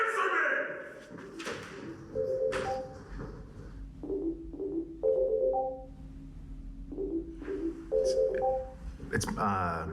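A mobile phone rings in the Dead Take video game, a repeating pattern of short melodic tone bursts at steady intervals, heard alongside thuds and movement.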